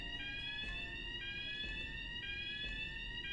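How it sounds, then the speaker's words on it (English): A fire alarm in the video game Tokyo Dark rings continuously, a steady shrill electronic tone with a regular pulsing pattern, loud and unbroken throughout with no voices. "I didn't think elevators were usable during a fire alarm"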